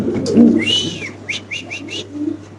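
A cream bar female pigeon coos close by in a short burst of soft calls, with a few faint chirps and no talking.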